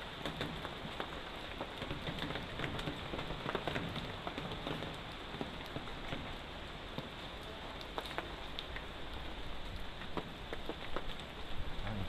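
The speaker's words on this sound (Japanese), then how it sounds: "これ雨が強すぎて。" Heavy rain pouring down steadily, a dense continuous hiss and patter on surfaces that stays even throughout, soft in level with no voices.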